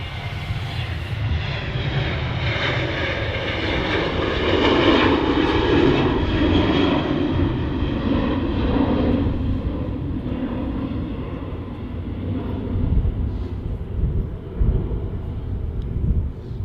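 An airliner departing Manchester Airport, heard as a loud, continuous, rumbling engine roar that peaks midway and slowly fades, with no voices.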